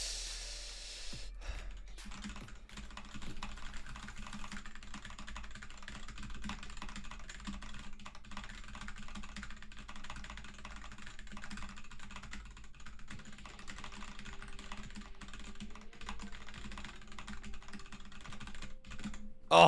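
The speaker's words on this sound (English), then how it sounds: "I'll do a typing test." Fingers type quickly on a computer keyboard during a typing test, a steady stream of close clicking keystrokes running nearly twenty seconds with a few brief pauses and faint breaths.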